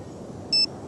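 A single short electronic phone-call beep in the video game Nancy Drew: Alibi in Ashes, clean and steady, lasting a fraction of a second over faint background hiss.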